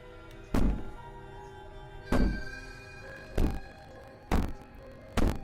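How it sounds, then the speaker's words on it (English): Heavy thuds of banging echo in the video game Slay the Princess, five dull, separate knocks spaced roughly a second apart, loud and close against a quiet, faintly humming background. "Maybe the banging and wailing will stop if you just don't pay attention to it."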